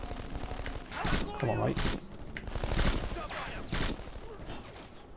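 Rapid bursts of gunfire from the Xbox shooter Black ring out in the Naszran Town stage, loud repeated volleys with sharp cracks, while someone talks over the shooting.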